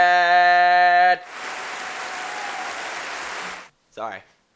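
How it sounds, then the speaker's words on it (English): One person gives a short round of applause, a few seconds of brisk, close clapping that follows a sustained electronic tone and ends in silence before a brief blip. "I had to give her a little round of applause as well"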